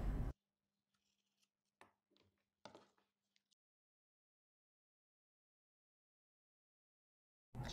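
Scissors snipping fabric along a beret pattern: a few soft, close blade clicks and short cutting strokes in near silence.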